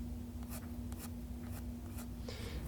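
An H pencil sketches a drawing on paper for a painting, making steady scratchy strokes in short repeated bursts, close and clear, with a constant low hum underneath and no talk.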